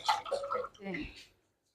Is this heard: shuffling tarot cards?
no